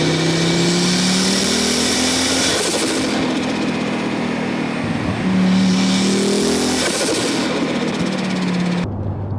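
A 400 bhp turbocharged Fiat Coupe accelerates hard and loud, its engine note climbing through two long pulls with a gearchange dip between them, then cutting off abruptly at the end.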